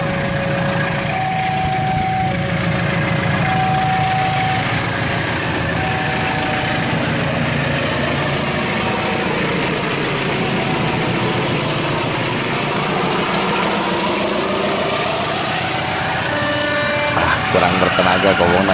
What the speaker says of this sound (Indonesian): Di sini ada CC203 yang mencoba kobong.